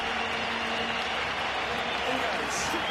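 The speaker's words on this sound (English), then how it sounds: "Was that cheer for a prop leaving the field?" Stadium crowd at a South Africa versus Samoa rugby match cheering and applauding as a prop leaves the field; a continuous, distant wash of crowd roar with no single standout voice.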